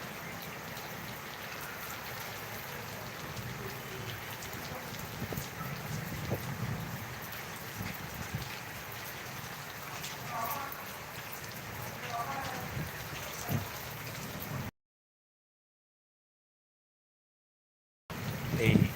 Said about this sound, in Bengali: এখন অবশ্যই একটু কমেছে কিন্তু বৃষ্টি হচ্ছে